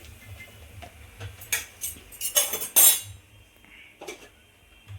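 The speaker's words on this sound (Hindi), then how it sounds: "अब मैं इन्हें रख देती हूँ प्लेट में" Potato-stuffed parathas are set on a plate with a few close, sharp clinks and clatters of metal cutlery and dishware, bunched in the middle, then a final light tap in a quiet kitchen.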